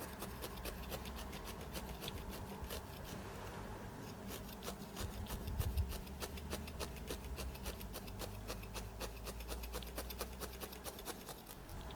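Needle felting wool layers for a realistic toadstool, a felting needle tacking the layers together: a steady, soft rubbing and rasping texture of quick repeated jabs, continuous and close, with no talk.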